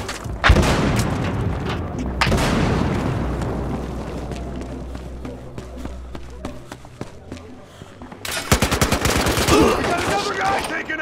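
Rapid automatic gunfire and explosions from the multiplayer video game Battlefield Hardline, loud and dense, with bursts at the start, a sustained roar through the middle, and sharp repeated shots near the end; a voice shouts briefly.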